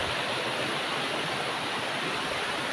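A river flows over large rocks in a steady, rushing broadband wash, constant and moderately loud with no voices over it.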